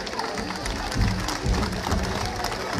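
Crowd applauding at a town festival in Pasaquina's Barrio El Calvario, a steady mass of clapping with some cheering and voices mixed in, swelling slightly around the middle.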